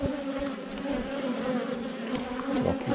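Dense, continuous buzzing of many honey bees close up at an opened hive, a humming drone with steady tones and occasional nearer wingbeats passing by.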